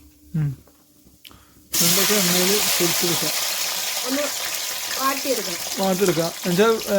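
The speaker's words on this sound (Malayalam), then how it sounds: "ഫസ്റ്റ് തന്നെ വെണ്ടയ്ക്ക ഇട്ട് അങ്ങോട്ട് വറുത്തെടുക്കാം" Okra drops into hot oil with a sudden loud, steady sizzle and crackle that continues to the end, following a few quiet knocks.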